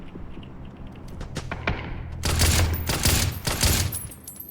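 Gunfire in PUBG while shooting at bots: scattered single shots at first, then dense loud bursts of rapid automatic fire with sharp cracks and thuds, close and punchy.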